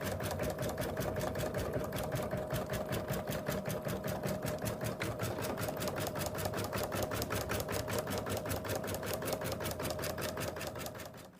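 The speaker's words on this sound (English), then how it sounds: "It's just going to baste around it now." An embroidery sewing machine stitches a basting outline around an in-the-hoop bunny design, a steady, rapid mechanical needle rhythm running continuously at moderate level, with no talk.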